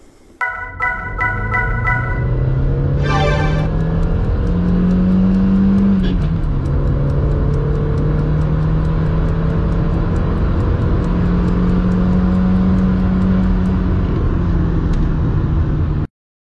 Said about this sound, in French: C'est un moteur 4 cylindres, 16 soupapes, 100 chevaux